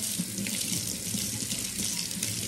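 Kitchen tap water runs steadily over a long clump of backyard-grown wheatgrass from Mountain Valley seeds. The rinse is a continuous, even splashing hiss that lasts throughout, close by and with no talk.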